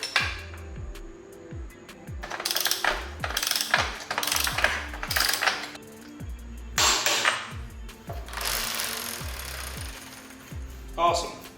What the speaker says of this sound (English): Just gonna tighten up the chain now.